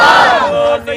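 At a devotional gathering during a Ramadan kalam recital, a packed crowd bellows a single loud unison slogan reply, close and forceful, tapering off quickly with a short trailing shout.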